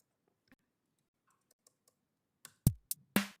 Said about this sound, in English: I'm trying really hard to hit my enter button to stop